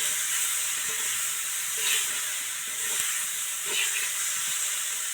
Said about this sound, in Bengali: কলাগুলোকে একটু ভালো করে নেড়ে চেড়ে নেব